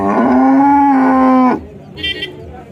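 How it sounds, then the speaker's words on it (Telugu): A Jersey cow calf at the Chintamani cow market lets out a single loud, long moo close by, followed by quieter market background sounds. "ఒక ఆవు దూడ అయితే ఉన్నది, జెర్సీ."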